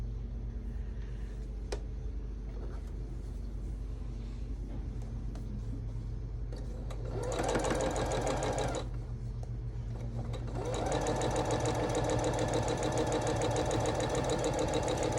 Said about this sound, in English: I'm just gonna sew it to it.